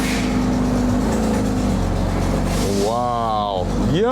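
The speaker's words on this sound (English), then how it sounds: "Good feeling when the car runs and drives." A wrecked 2023 Porsche GT3 RS, brought back to running after an airbag-deployed crash, drives with a steady engine drone that rises in pitch near the end as it revs, with voices over it.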